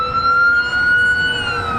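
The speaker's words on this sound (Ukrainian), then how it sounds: "Ззаді знову пожарна" A fire truck siren in Canada wails in a long, steady rising tone, loud and close, over the low rumble of road traffic.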